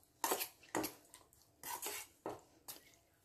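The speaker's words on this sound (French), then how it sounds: "j'enchaîne avec l'huile d'olive. 2 à 3 cuillères de l'huile d'olive. Je mélange le tout" A spoon clinks and scrapes against a bowl while cold couscous salad is mixed with two to three spoonfuls of olive oil, in several short, close bursts with pauses between them.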